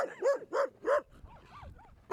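Three quick, sharp barks from a nearby dog in the hills of the Inca heartland, followed by softer, higher yips and then another loud bark at the end.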